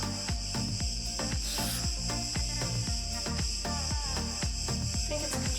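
Cicadas chirp at an abandoned mine on Milos, Greece. Their loud, constant high-pitched buzz runs under a steady train of rhythmic clicks, with no voices.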